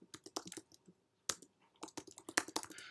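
Quick bursts of keystrokes on a computer keyboard clatter close by, a brief pause breaking the run before the clicking resumes, with nobody speaking.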